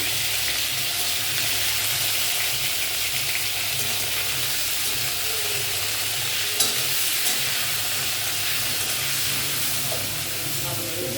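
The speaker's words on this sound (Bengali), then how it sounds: "সুন্দর করে পটলটা ভেজে নেবো।" Pieces of pointed gourd (potol) with salt and turmeric fry in hot oil, giving a loud, unbroken sizzle and hiss that holds steady close by, with one faint knock midway.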